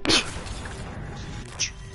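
A single sharp sneeze bursts out at the start, followed by a smaller second burst moments later over quiet room background, with no talk.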